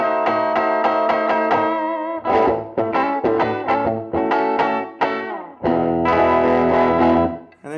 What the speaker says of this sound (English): when you got a lot of gain on the amp,